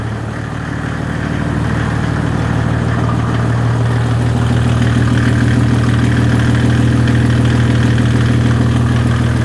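A Mercedes OM606 diesel engine idles with a steady, low, tractor-like chug and rattle, loud and close, holding an even rhythm with no voices.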